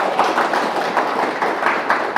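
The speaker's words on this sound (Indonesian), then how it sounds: "Boleh tepuk tangan ya?" A crowd claps and applauds at a live stage show, a broadcast election-themed event in Indonesia. The clapping runs dense and steady throughout, with brief swells and no voices over it.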